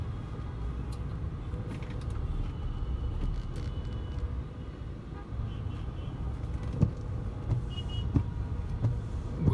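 Dense car traffic on Dhaka's airport road at night in light drizzle, a steady close rumble of engines and tyres with occasional faint horn toots, no voices.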